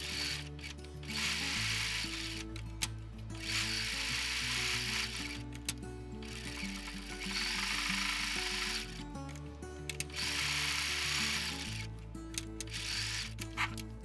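A sewing machine stitches a quarter-inch seam on a sawtooth star quilt block, with a steady mechanical whir that runs in several bursts separated by short pauses. No one speaks.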